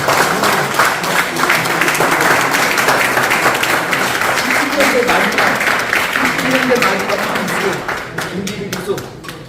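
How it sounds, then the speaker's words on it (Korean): Audience applause at a Korean horse-racing ceremony marking a jockey's retirement after 45 years, a dense, steady clapping from a crowd that runs loud throughout and thins slightly near the end, with voices mixed in. "모두 박수로"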